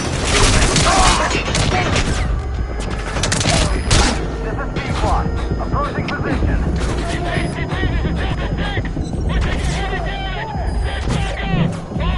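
Dense suppressing gunfire from a Metal Gear Solid 5 battle, with loud overlapping bursts and rattling volleys that run steadily for the whole stretch, joined by heavier booming impacts.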